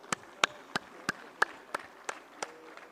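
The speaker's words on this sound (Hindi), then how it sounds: "एक बार ताली जोर से बजा लीजिए सब लोग" Claps from a gathered audience honouring guests at a national convention, about nine sharp separate claps at an even, unhurried pace, fairly close and distinct, with a faint murmur behind.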